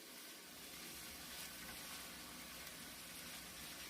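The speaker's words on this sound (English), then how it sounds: "It's been about 1 minute that I've been stirring my onions and my garlic." Onions and garlic sizzle steadily in hot olive oil while being stirred, a soft, even crackling hiss that holds for several seconds with no talk.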